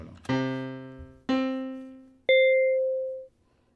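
Three bell notes from Sonic Pi 3.2 synthesizer software ring out one after another, each struck cleanly and fading away; the last one is higher and brighter, with no other sounds.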